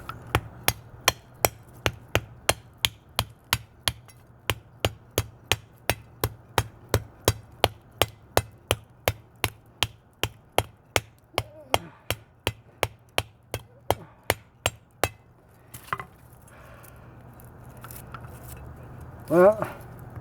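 Wood is chipped out of a knife handle whose scales are fastened to the tang with epoxy, a long run of sharp, evenly spaced hammer-on-chisel taps. The strikes stop near the end, leaving faint handling noises.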